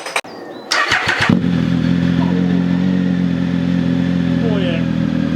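Triumph Speed Triple R motorcycle fitted with an SC Project exhaust with baffles in, starting up: a brief starter whir and clatter, then the engine catches and settles into a loud, steady, rumbling idle close by.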